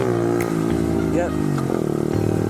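A Honda CRF50 pit bike engine drones steadily as it is ridden, a close, buzzy single-cylinder note with a slight pitch shift midway, with speech over the engine.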